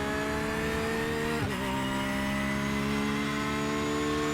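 A Porsche GT3R race car engine in iRacing at Snetterton drones loud and steady under acceleration, with a quick shift dip midway before the pitch climbs again. The engine runs alone, with no talk over it.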